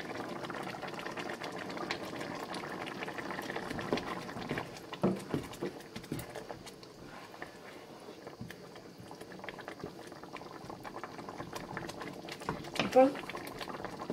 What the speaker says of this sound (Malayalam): കറി നന്നായിട്ട് തിളച്ചിട്ടുണ്ട്